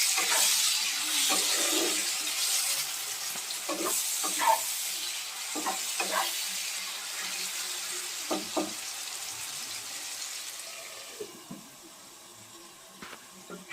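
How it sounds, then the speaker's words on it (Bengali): Onions and tomatoes with salt stirred in a pan for matar paneer, a steady sizzle and hiss running throughout with scattered scraping strokes of a spoon, close by, fading slightly toward the end. "নুনটা দিয়ে আবারও আমি সুন্দরভাবে নেড়ে দেবো।"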